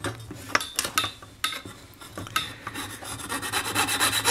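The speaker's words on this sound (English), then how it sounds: "that tightens the blade so that I can begin sawing again" A hand saw rasps through material in uneven back-and-forth strokes, close up, building into a quicker, steadier rhythm.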